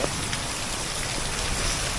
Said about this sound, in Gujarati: બહુ વરસાદ વધી ગયો છે